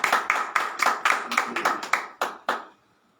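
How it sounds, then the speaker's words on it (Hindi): A small audience at an honoring ceremony welcomes a guest with a short burst of clapping, about a dozen distinct rhythmic claps from a few hands, then stopping abruptly into quiet. "तालियों के साथ स्वागत करते हैं।"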